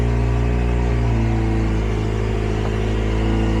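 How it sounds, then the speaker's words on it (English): Acura RSX fitted with a swapped K24A engine idling close by, a steady even hum with a faint exhaust leak, running alone without speech. "It seems to be running and idling. So we'll let it run and do its thing here."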